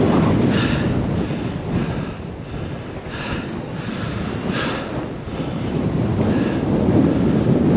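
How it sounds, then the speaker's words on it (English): Strong wind roars and buffets the microphone at the summit of a volcano, a loud, continuous rushing gust that swells and dips without a break. "And the wind is blowing so hard, it's almost blowing you off the side of the volcano"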